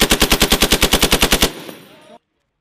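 Machine gun on a designated marksman and machine gun range fires a loud, steady burst of about fourteen rapid rounds lasting a second and a half, then cuts off into a fading echo and silence.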